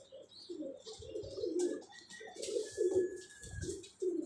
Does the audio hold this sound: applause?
no